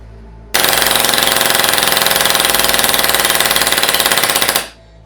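HPA airsoft gearbox fitted with an overreach regulator firing a sustained full-auto burst of about four seconds, a loud, dense, rapid mechanical rattle close by that starts abruptly and stops cleanly, with no talk.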